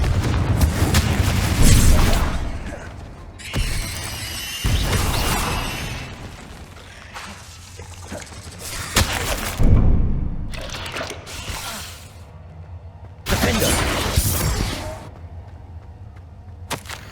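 The Confringo spell in Hogwarts Legacy sets off several loud, booming explosions spread across the stretch, each a heavy burst with rumbling decay, mixed with clattering combat noise.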